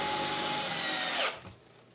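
Power drill drives a screw through a 2x4 into plywood with a loud, steady high whine that winds down abruptly near the end into quiet.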